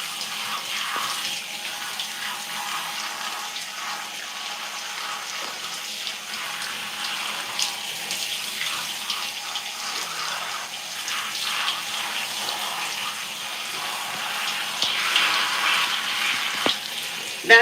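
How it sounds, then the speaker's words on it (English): A handheld shower head sprays water at heavy pressure while hair is rinsed, a steady close hiss and gush that shifts slightly as the spray moves, swelling louder near the end, with no talking. "When I put it on this heavy water pressure, it really helps to make sure"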